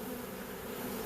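Honeybees from a swarm buzz in a dense, continuous drone at a log hive, close and steady throughout, with no other sounds.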